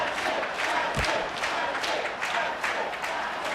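Loud, continuous crowd roar with scattered cheers and claps at a live Madden 25 Madden Bowl championship final, a steady wash of noise with no single voice standing out.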